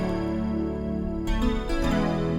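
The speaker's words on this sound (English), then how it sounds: "right under glass space, called glass xylophone stack" Glass xylophone stack synth pad from the Alchemy pad section, a sustained, dense chordal pad with a bright, glassy shimmer that shifts to a new chord midway, played alone at moderate loudness.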